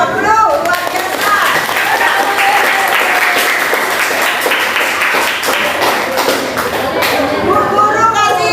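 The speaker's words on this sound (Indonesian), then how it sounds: "Kita berikan aplaus untuk semua kelompok dulu." A classroom of students applauds all the presentation groups, a dense, steady wash of clapping that fills the whole stretch, with children's voices mixed in and a teacher's voice near the end.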